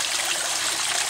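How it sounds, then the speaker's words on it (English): A koi pond water feature fed by a pump trickles and splashes continuously, a close, steady wash of falling water. "I've got splitters off the pump running the water feature you see there."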